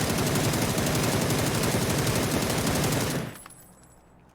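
Automatic rifle fire from a PUBG console match sprays in a rapid, continuous burst for about three seconds at full loudness, then cuts off abruptly into near silence.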